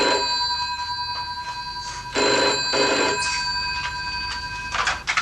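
A telephone bell rings indoors in bright, repeated electronic trills, with one strong burst of two rings in the middle and a shorter ring near the end over a steady background hum.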